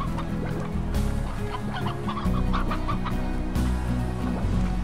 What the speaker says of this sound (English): He's got his 2 chickens in there.